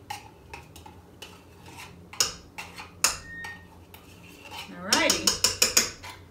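A metal spoon scrapes and clinks against a bowl while mixing condensed milk for an almond crusted pistachio cheesecake, giving a series of sharp close taps and scrapes, then a quick burst of rapid rhythmic clatter near the end.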